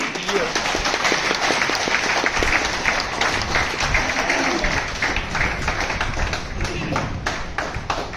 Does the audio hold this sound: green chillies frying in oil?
no